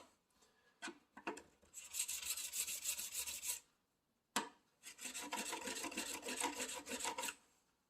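A chisel is pushed back and forth on a sharpening stone to remove the burr, giving two long, even, rasping scrapes separated by short pauses. The sound is close and fairly quiet, with no talking.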